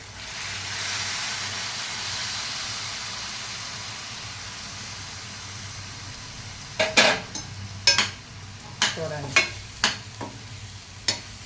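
Soaked and boiled chana dal stirred in a pan: a soft, steady sizzle gives way to a series of sharp scraping and clinking strokes of a spoon against the pan, close and distinct.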